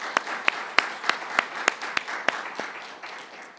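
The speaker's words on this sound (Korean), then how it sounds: "격려의 박수 한번 했으면 좋겠습니다." A church congregation claps in encouragement during a Sunday sermon, with a steady rhythm of sharp claps about every third of a second that fade toward the end, nearby and with no voices.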